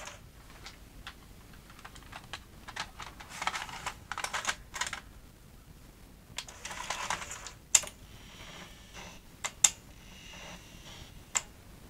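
A tape goes into a V2000 format video recorder with a string of small mechanical clicks and ticks, two stretches of soft whirring, and a few sharp clunks near the end.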